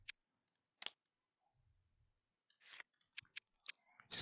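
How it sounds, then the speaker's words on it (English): A deck of playing cards shuffled during a card game: a sparse run of crisp, quiet clicks and papery riffling bursts, close by, with no voices. "Just gonna shuffle."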